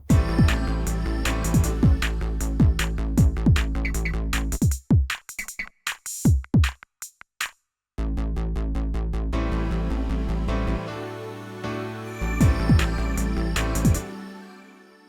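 Roland Go:Keys keyboard accompaniment with a drum groove and bass, the parts dropping in and out so beats sound alone for a moment before the full backing resumes.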